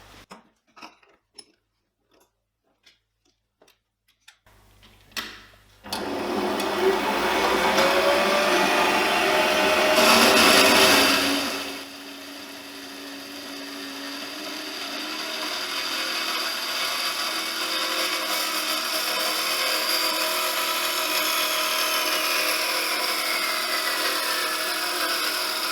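A metal band saw cuts a 35 mm steel pipe with 1.5 mm walls: a few faint clicks and taps, then the motor starts into a loud steady whine and grinding cut that eases to a lower, continuous running hum.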